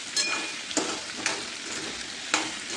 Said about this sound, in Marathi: आता आपण हे सर्व मसाले एकत्रित मिक्स करून घेऊ भाजीमध्ये